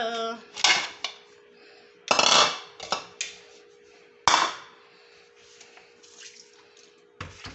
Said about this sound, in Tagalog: I-drain na po natin ang ating pasta.